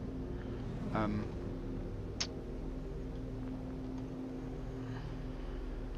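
An aircraft engine running in a video game gives a steady, droning hum that holds at an even level throughout, with only a faint short chirp partway through.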